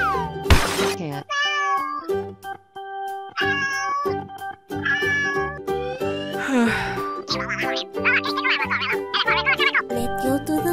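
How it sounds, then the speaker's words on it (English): A cat meows repeatedly amid playful music, with a voice, giggling and a crash-like sound effect mixed in. "Cat."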